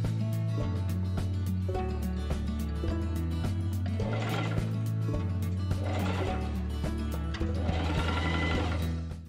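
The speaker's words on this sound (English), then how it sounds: "I mark, pin and machine sew the darts of the bodice front pieces." A sewing machine stitches darts in linen fabric with a steady, rapid mechanical whirring in several short runs separated by brief pauses, close and clear with no talking.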